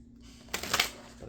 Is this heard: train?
no